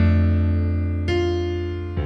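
A jazz piano shell voicing rings out with a rolled bass note, two fresh strikes sounding about a second apart over sustained, decaying tones, with no talking.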